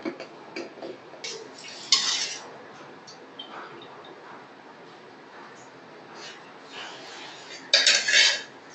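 A metal spoon clinks and scrapes against a pot as rice is added to khuska pulao. Scattered light taps are broken by two louder bursts of rattling clatter, near and alone without talk.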